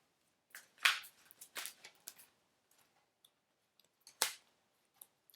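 Tarot cards are shuffled close up in several short, crisp riffling bursts separated by quiet pauses, with a few faint taps.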